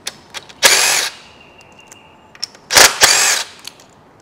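A power tool drives out the timing chain guide bolts on a Kia/Hyundai V6 engine during head removal, giving two loud, close whirring bursts of about half a second each. Faint clicks and clatter fall between the bursts.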